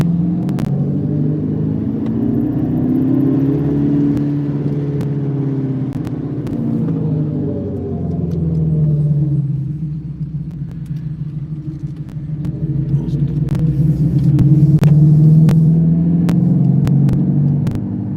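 A Mopar car's engine rumbles deep and steady while driving on Woodward Avenue, the low drone rising and dipping with throttle and swelling louder near the end.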